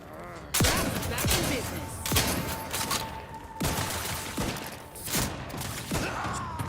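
Gunfire in the video game Outer Worlds 2: repeated sharp shots and bursts in an indoor firefight, with a steady tone and combat noise between them, with talk at times.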